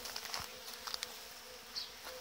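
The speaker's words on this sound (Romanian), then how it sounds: "o cantitate foarte mare de albine au venit la apă" Honey bees crowd a water feeder at an apiary, their buzzing steady and close with a few individual bees flying past more loudly.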